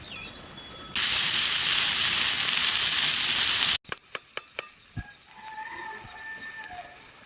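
Karutle, a monsoon wild vegetable, hits hot oil with a loud, steady sizzle that runs for a few seconds, then cuts out, leaving a handful of sharp clinks and quieter kitchen sounds.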